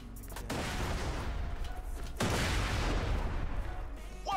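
Mortar fire in the video game Borderlands 2, heavy booming blasts and rumbling explosions with a sharp impact near the start and another midway, loud and dense throughout.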